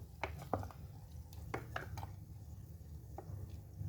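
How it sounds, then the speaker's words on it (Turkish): A wooden spoon stirs apples in a glass jar, making faint scattered clinks and taps against the glass, a handful of quick knocks over a quiet background. "Şöyle şu şekil karıştırıyoruz. Tahta kaşığımızda."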